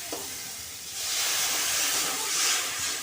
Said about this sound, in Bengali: আমি দিয়ে দিচ্ছি মশলার জলটা